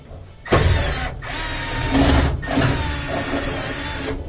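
Phillips head screws are removed from the gas pipe fitting on an LG gas dryer, giving close, loud mechanical scraping and clicking from the screwdriver, broken by short pauses between turns.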